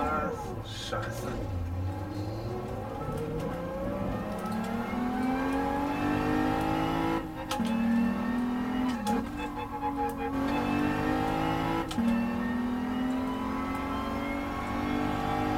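An Audi TT 3.2 engine revs and shifts in Gran Turismo Sport on the PS4 Pro, rising and falling as it is driven through corners and lifted off the throttle, with someone talking over it throughout.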